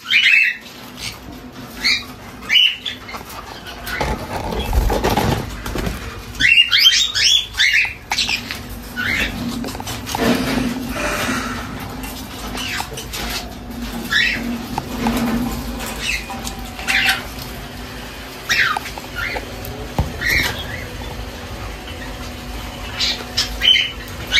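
Pet cockatiels squawk in sharp, repeated bursts at close range, mixed with wing flutters and scratchy cage movement, loud and irregular throughout with no speech.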